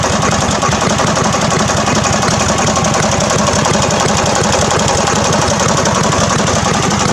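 An outboard boat engine on a homemade pontoon boat runs loud and close with a steady rough idle, its rapid knocking pulse continuous and unbroken throughout.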